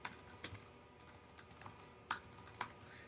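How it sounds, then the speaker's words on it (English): Light typing on a computer keyboard, a handful of soft scattered key clicks with a couple of sharper taps, faint and close over a low steady background hum. "what you need to do is up in your address bar type in Chrome"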